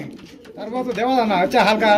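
Black Mondi pigeons at a pigeon sale give throaty, rising-and-falling coos, close by, with a person talking over them.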